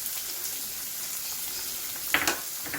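Chopped onions drop into hot oil in a pan, giving a steady, faint sizzle with a brief louder crackle burst near the end and no talking.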